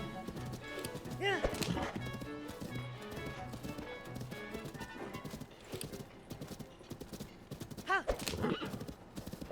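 A horse trots in a video game, its hooves clip-clopping in a steady rhythm at moderate loudness under game music and effects, with a whinny near the start and another near the end.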